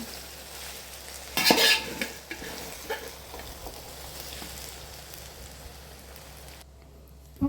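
Vegetable fried rice stirred in a pan, with a sharp burst of scraping and sizzling near the start, then quieter soft stirring and a faint steady hiss, ending with a brief clink.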